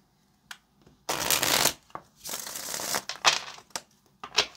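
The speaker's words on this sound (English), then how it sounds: "Okay, let's get one more shuffle for Capricorn." Tarot cards shuffled by hand in a few quick riffling bursts, each a crisp papery flurry separated by short pauses, close and fairly quiet with no voice.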